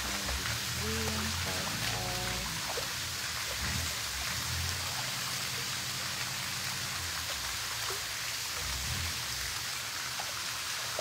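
Steady rain falling, a dense continuous hiss of drops on surfaces throughout, fairly loud and close, with faint low tones underneath and no talking.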